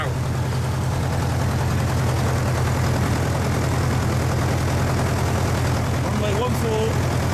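Steady propeller-plane engine drone with a strong low hum holds evenly throughout as the aircraft taxis and lines up on the runway for takeoff toward Perranporth, Cornwall, with a brief faint tonal chirp near the end.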